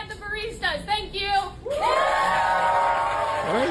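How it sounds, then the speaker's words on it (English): A crowd cheers and whoops loudly, the roar swelling into a sustained wall of shouts and hollers after a few scattered voices and sharp yells at the start. "Why are these people cheering?"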